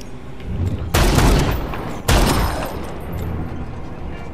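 Gunfire in the Dead Rising 4 zombie game: two sharp, loud bursts of shots a second apart, each trailing into a long rumbling decay over a steady background roar.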